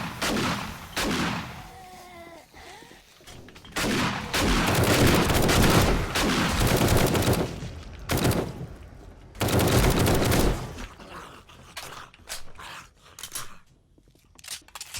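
Gunfire in the zombie survival game 7 Days to Die on insane mode as players shoot mobs, with loud bursts of rapid shots separated by short pauses, sharp single cracks and shorter volleys toward the end.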